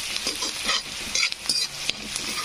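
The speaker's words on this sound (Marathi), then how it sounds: "छानपैकी असं फ्राय होऊ द्यायचं आहे आपल्याला।" Curry leaves and whole, crushed garlic fry in a pan, a steady close sizzle with light stirring scrapes and a few brief crackles.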